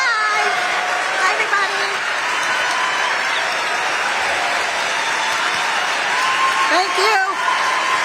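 A rally crowd on the Fighting Oligarchy Tour in Bethlehem, Pennsylvania, applauding loudly and continuously, with cheers and whoops rising above the dense clapping throughout.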